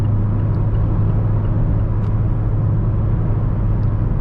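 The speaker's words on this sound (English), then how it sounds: "wind noise and tire noise, understandably, they're a bit loud in this vehicle" Steady wind roar and tire hum fill the cabin of a 2022-2023 Mazda MX-5 Miata RF GT with a 6-speed automatic while it drives, a loud, continuous low rumble with no voices.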